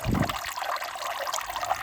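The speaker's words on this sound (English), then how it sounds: "I'll be switching this waterfall off" Water from a garden koi pond waterfall trickles and splashes continuously, close by, with a brief louder low gurgle at the start and no one speaking.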